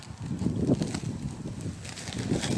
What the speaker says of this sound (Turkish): bayağı bir rüzgar var.